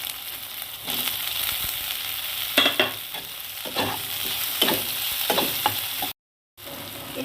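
Crushed spices frying for a spicy potato curry, stirred with repeated loud scraping strokes over a continuous sizzle, close up, with a brief dropout near the end.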